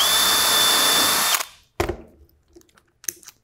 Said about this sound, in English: I would drill my second hole